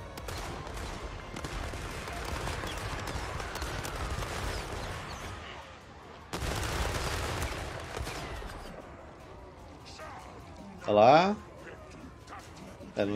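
Dwarf units firing guns in Total War: Warhammer 3, a dense, distant crackle of massed volleys that fades, then resumes, with a brief louder burst near the end.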